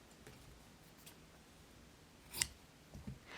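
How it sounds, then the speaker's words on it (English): A pair of scissors trims a fabric seam allowance, giving a single quiet, close snip in an otherwise hushed room. "we're going to trim that seam allowance to be roughly 1/4 inch."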